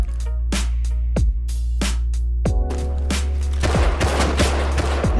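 Gunfire from an AK and other weapons in the survival game Rust rings out in sharp, loud, close shots, first spaced singly and then quickening into rapid bursts, with no voices over it.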